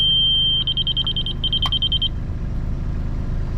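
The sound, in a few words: laser level receiver beeping when on grade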